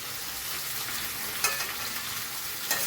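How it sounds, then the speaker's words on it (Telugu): Fish deep-frying in hot oil makes a constant soft hiss at low volume, with a couple of brief crackles near the end. "ఫిష్ ఫ్రై అయితే ఇట్లా చేస్తాం మేము"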